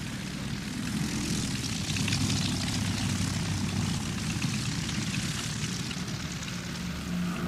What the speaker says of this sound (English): Hitler said later that Franco should erect a monument to the Junkers 52, the aircraft that Franco had to thank for his victory.